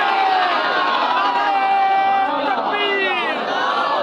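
Crowd at a religious sermon shouting a slogan together, a loud sustained mass of many voices chanting and cheering, filling the whole stretch without a break.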